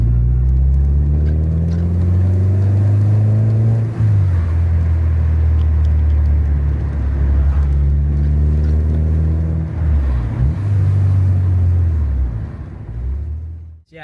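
A Honda Civic EP3 engine drones loud and close from inside the car while driving, its pitch rising through gears with steady acceleration sweeps and brief shifts, no talking over it.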